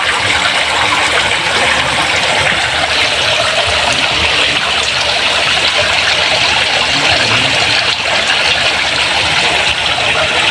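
Water flows and trickles steadily through a catfish breeding tank, a constant bright splashing rush with no pauses, close and fairly loud.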